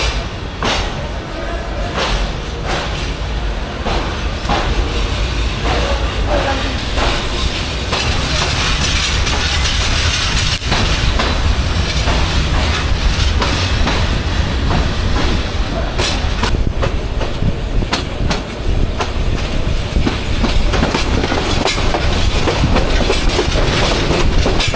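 The Upaban Express runs from Dhaka to Sylhet on an Eid trip in rain, its wheels clattering loudly and steadily over the rails with hissing rushes and sharp rattles, and some voices mixed in.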